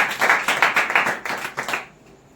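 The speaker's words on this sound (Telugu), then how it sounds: "చప్పట్లు కొడదాం దేవునికి" Quick burst of rhythmic group clapping at a church Bible study gathering, about a dozen sharp claps in close succession, fairly near and loud, then stopping abruptly into quiet.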